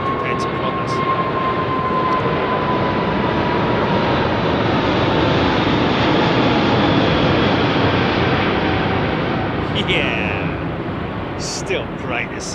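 Korean Air Boeing 747 departing Heathrow on a summer evening, a loud sustained jet roar that swells and holds steadily before easing slightly, with people talking faintly near the end.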